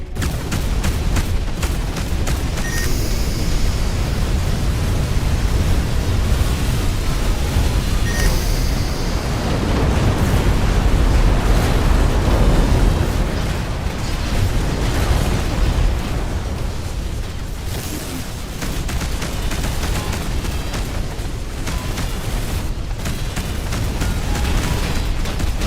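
Rumbling explosions in a space battle audio drama pile up in a dense, continuous barrage of booms and bursting blasts, loud and unbroken throughout.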